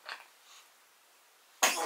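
A child sneezes once, sharp and sudden after a brief breathy sound and a pause, close and fairly loud in an otherwise quiet room.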